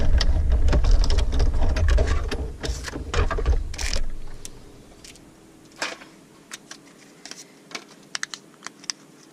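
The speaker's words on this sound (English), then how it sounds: "So I have the magnetic platform, acrylic plate, my paper, my stitched oval die, and now I'm going to run this through." Paper with a stitched oval die, on a magnetic platform under an acrylic plate, is cranked through a manual die-cutting machine, giving a loud rattling, ratcheting grind for about four seconds, then scattered light clicks and handling taps.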